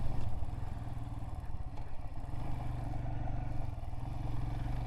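Motorcycle on a solo NEBDR ride, running over tarmac and gravel: a loud, steady engine throb with a pulsing rhythm, plus wind noise and road clatter throughout.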